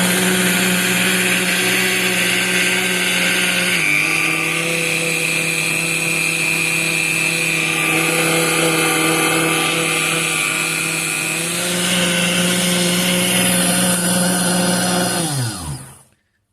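Three small electric motors run as a mini wind generator, giving a steady, loud, close whine and hum. The pitch shifts partway through, and the sound winds down and stops at the end.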